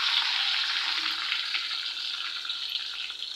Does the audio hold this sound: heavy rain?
no